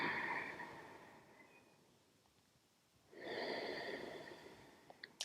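Slow guided breathing: one long, close, airy inhale through the nose, a quiet pause, then a second long breath of equal length, with no words spoken.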